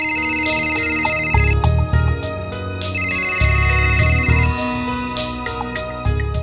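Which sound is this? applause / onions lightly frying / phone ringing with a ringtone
phone ringing with a ringtone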